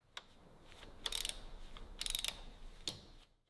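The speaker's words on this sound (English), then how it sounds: "Each bolt tightened with utmost care, ensuring perfect alignment." Ratchet tightening bolts on a Rolls-Royce Boat Tail, several short bursts of crisp clicking with pauses between them, close and quiet.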